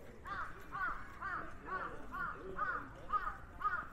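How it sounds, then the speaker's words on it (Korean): Crows cawing near the entrance to a harbour on Busan's coast, a steady run of about eight harsh calls spaced roughly half a second apart, fairly close, with faint outdoor background and no clear talk. "무슨 까마귀 동네인가 보네"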